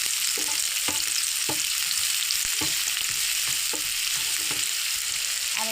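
Cabbage, onion stalks and garam masala frying in a pan, a steady close hiss of oil with a spatula scraping and tapping the metal every second or so, no voices.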